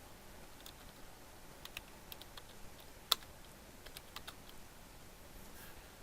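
Keys clack on a computer keyboard as a cd command is typed in a quiet room, a sparse, irregular run of soft, close clicks with one sharper tap near the middle.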